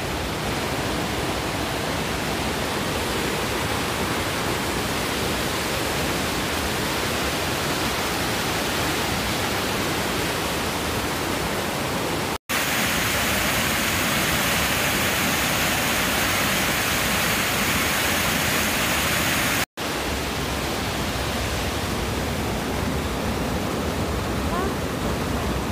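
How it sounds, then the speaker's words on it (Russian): Studeny Potok waterfall in Slovakia's High Tatras, a loud unbroken rushing roar of falling water, broadband and steady throughout, briefly cut twice by edits. "Вот водопад «Студеный поток»."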